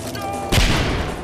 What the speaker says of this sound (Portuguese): Granadinha marota.